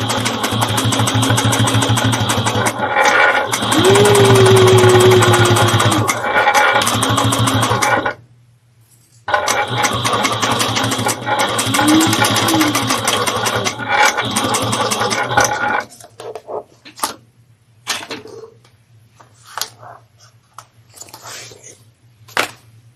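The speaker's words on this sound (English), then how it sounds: "So we're going to sew this down using 3/8 of an inch." A Juki 1541 industrial sewing machine stitching a seam on a quilted barrel bag makes a steady mechanical hum and rapid needle rattle in long runs, with a short pause, then scattered clicks and handling noises once sewing stops.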